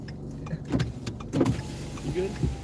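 Another driver's car pulls up and sits idling nearby. A low engine rumble runs throughout, with a few clunks and a window motor whirring, and brief voices can be heard.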